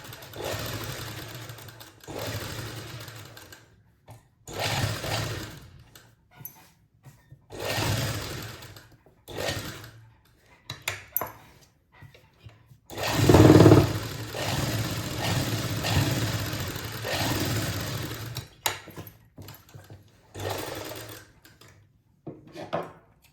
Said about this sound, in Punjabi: ਬੁਕਰਮ ਦੇ ਬਿਲਕੁਲ ਨਾਲ ਨਾਲ ਸਲਾਈ ਲਗਾਵਾਂਗੇ ਆਪਾਂ